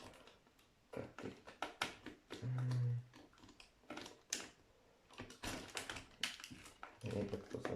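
A Lego baseplate being cut with a hand tool, heard as a run of small plastic clicks, taps and snaps at close range, with one brief low hum partway through and no voices.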